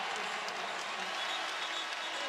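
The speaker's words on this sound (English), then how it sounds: "what a reaction he's getting from the home crowd" Home crowd at a Duke vs. Virginia Tech college basketball game cheers and applauds in a steady, loud, dense roar filling the arena, with no single voice standing out.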